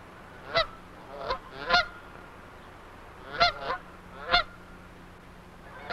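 Dusky geese honk in short bursts, five or six separate calls spread across several seconds at moderate distance, over a quiet background during Pacific Northwest goose hunting.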